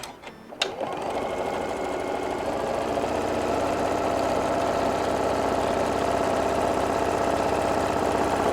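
A sewing machine stitches fabric pieces for a brim hat, starting with a click and then running in a steady, fast, close whirring drone.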